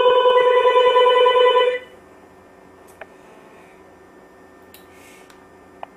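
A telephone ringback tone rings steadily for nearly two seconds as an unlocked iPhone on T-Mobile places a call to a home landline, then cuts to near silence with a few faint clicks.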